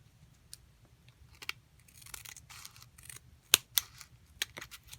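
Scissors cutting tulle for a bow, soft, quiet snips and sharp little clicks of the blades scattered irregularly, growing denser and crisper toward the end, with no voices.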